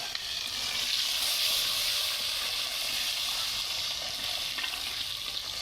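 Chopped tomatoes dropped into a hot pan with cumin while cooking a yogurt mutton curry, giving off a steady, bright sizzle and hiss that holds evenly from start to finish, close up, with no talking.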